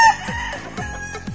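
Brood cocks and hens, with a rooster crowing loudly and close by, several short repeated crow calls in quick succession, alone without talk.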